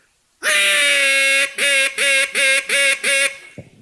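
A man imitates a duck with a duck call, blowing one long loud quack followed by five shorter, evenly spaced quacks in a quick rhythmic series, close and alone.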